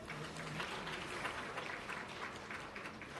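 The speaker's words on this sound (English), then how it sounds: "Please give them some applause again" Conference audience applause at a supply chain event, a steady, fairly faint wash of many hands clapping throughout, with no voices over it.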